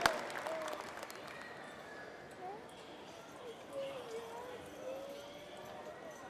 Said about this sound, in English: Let's give them a big round of applause, Crown Distributors and Jeff Downey